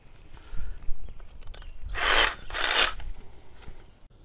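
A reciprocating saw cuts through the soft trunk of a banana tree, giving two strong rasping bursts midway, close and loud, with quieter handling and rubbing sounds before and after.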